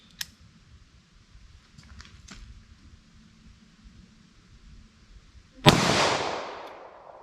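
A single CCI Uppercut .22 LR round fires from a snubnose revolver as one sharp, loud crack with a trailing decay, after a few seconds of quiet with faint scattered clicks.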